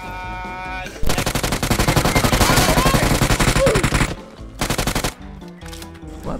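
Rapid automatic gunfire from an enemy in a first-person shooter game, loud sustained bursts with a short gap and a final brief volley, with a voice speaking briefly underneath.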